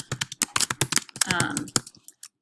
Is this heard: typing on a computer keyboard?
yes